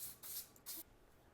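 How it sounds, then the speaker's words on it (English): Oil sprays onto raw chicken wings in two short, quiet hissing bursts from a spray bottle, separated by a brief pause. "I need to spray it with a little oil first"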